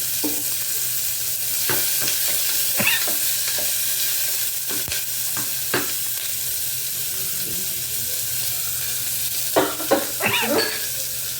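Sliced onion cooking lightly in a pan for an aloo, brinjal and tomato curry, giving a steady close sizzle with occasional stirring clinks and scrapes over a constant background hum.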